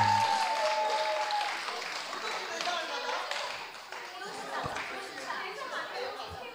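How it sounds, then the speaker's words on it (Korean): Congregation at a Sunday church gathering applauding a choir conductor's piano award, brisk clapping that gradually thins, with some chatter mixed in. "박수."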